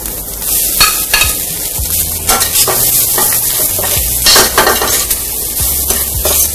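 Carrots and rice stir-fried in a pan, with a steady close sizzle under repeated scraping and tapping strokes of a utensil against the pan.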